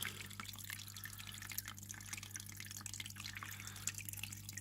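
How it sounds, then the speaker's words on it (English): Faint water trickles and drips steadily through a mixed-species tank under a low constant electrical hum, quiet and continuous throughout. "Love the sounds you can hear now, the water's trickling through"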